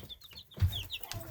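Chickens and a young turkey clucking and chirping close by in a farmyard pen, a few short calls and soft clucks at modest level, with no speech.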